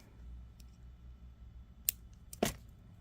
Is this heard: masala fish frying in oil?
no